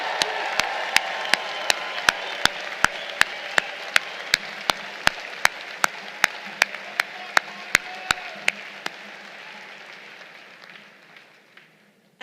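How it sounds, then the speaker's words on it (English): Applause from a commencement audience for the graduating class of 2023 at the Citadel Corps of Cadets ceremony, a steady crowd clapping throughout with sharp regular claps near the front, tapering off toward the end. "Let's give the class of 2023 one more round of applause."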